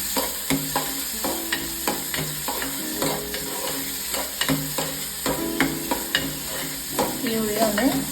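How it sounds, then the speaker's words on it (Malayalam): Finely chopped onion sautéed in a pan for cabbage pathil, a continuous sizzle under repeated spoon scrapes and taps against the pan, close and fairly loud throughout. "ഇനി നമുക്ക് ഒരു ഉള്ളി ചെറുതായി അരിഞ്ഞിട്ട് കൊടുക്കാം. ജസ്റ്റ് നമുക്കിതൊന്ന് ഇളക്കി കൊടുക്കാം."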